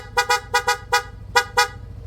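Stock horn on a Yamaha NMAX V1 scooter, a set of short, bright toots sounded in a quick rhythm of pairs and singles, close and loud over a low steady hum, no talking.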